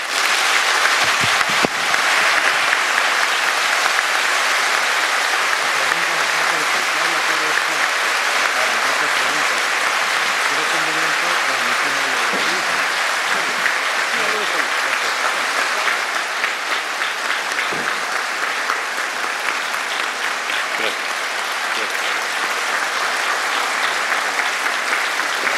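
Audience giving strong, sustained applause for Dr. Héctor Guillén Tamayo, physician and freethinker, after his speech on secular states in Peru, thick continuous clapping over about twenty-five seconds with faint murmuring voices beneath.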